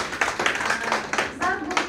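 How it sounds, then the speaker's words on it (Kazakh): College students in a classroom clap their hands in a short, uneven round of applause, several pairs of hands beating close by with some voices mixed in. "Қол шапалақтап"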